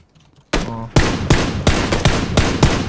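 A sudden burst of rapid gunfire in the video game PUBG: Battlegrounds starts after a brief quiet moment, loud sharp shots repeating in a fast, uneven rhythm.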